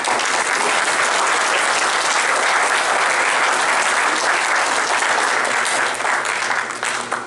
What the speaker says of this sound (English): rugby clap